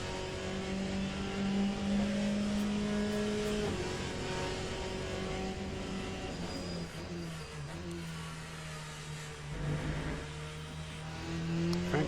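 Race car engine from the Le Mans Ultimate sim, heard from inside the cockpit, droning loud and steady with sustained harmonic tones that shift pitch through gear changes and revs, no talking over it.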